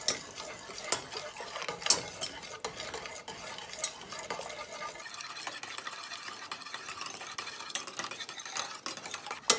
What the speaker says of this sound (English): the whisk is really good. Helps break up that xanthan gum.